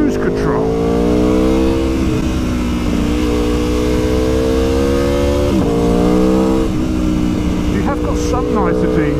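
A sports or super naked motorcycle is ridden hard on the road, its engine revving loud and close with rising pitch and clear gear-change dips, while a rider talks over it.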